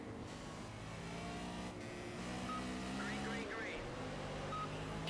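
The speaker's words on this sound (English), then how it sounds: "Right now I'm driving a BMW M3 GT4." Simulated BMW M3 GT4 race car engine in Project Cars at Hockenheim National, a steady droning engine tone running continuously with gear-like pitch shifts, under game music and other car noise.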